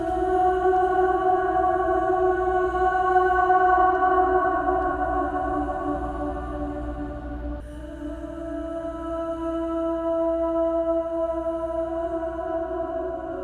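Layered harmony backing vocals drenched in heavy reverb, Enya-style in Logic Pro, holding long sustained tones that blend into a soft, distant wash with a slight shift midway.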